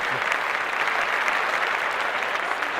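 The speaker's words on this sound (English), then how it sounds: "So really low clap." Soft, steady applause from a small group on a podcast, an even wash of clapping that holds at a constant low level throughout with no voices over it.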